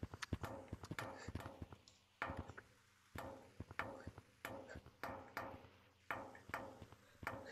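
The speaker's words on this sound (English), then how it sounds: "Footsteps over there." Quick, irregular hollow taps from footsteps in the Gorilla Tag VR game's graveyard map, near and fairly crisp, coming in uneven bursts with short pauses between them.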